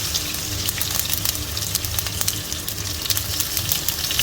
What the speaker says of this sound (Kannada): ಇದನ್ನು ಈಗ ಹಸಿ ಸ್ಮೆಲ್ ಹೋಗುವವರೆಗೆ ಫ್ರೈ ಮಾಡಿಕೊಳ್ಬೇಕು.